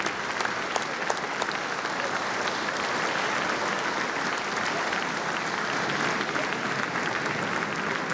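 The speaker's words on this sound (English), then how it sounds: "Now we can clap." Applause from a large crowd at a West Virginia State of the State address in 2018, a dense, steady wash of clapping that stays loud and even throughout.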